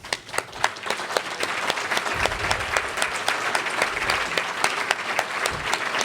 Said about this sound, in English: please, for a round of applause?